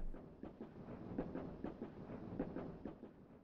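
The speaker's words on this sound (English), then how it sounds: "This is the train I took to go home." Train running in the video game Tales of the Black Forest, a steady low rumble with faint rhythmic clicks of wheels on rail joints, continuous and moderately close, with no voices.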